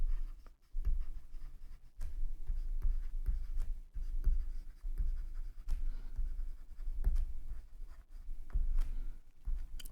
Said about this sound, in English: let me write it down here